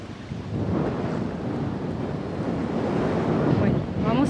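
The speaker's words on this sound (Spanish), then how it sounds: "Miren cómo corre el agua con tanto viento." Strong wind buffets the microphone beside choppy water at a resort on a cloudy day, a continuous roaring rush with surf-like swells, fairly close and steady.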